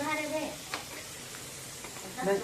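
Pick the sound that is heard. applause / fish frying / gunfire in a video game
fish frying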